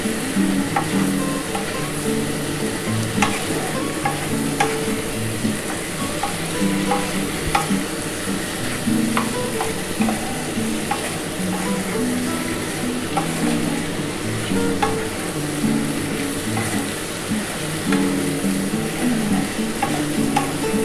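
Mutton with spices sautéing in a pan for an aloo mutton stew, a steady close sizzle with scraping stirs running unbroken throughout, no voices.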